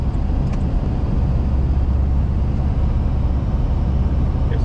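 A city sand-spreading truck rolls along a snowy road in Wichita, Kansas, giving a steady broadband engine and tire roar that stays loud and close throughout, with no voices.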